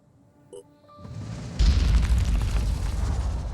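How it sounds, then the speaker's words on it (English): An exploding fire worm in the Phoenix Point video game goes off as a deep, rumbling boom that swells into a sustained crackling blast, preceded by faint game tones, with no talking. "I gotta remember not to drive through exploding stuff, too"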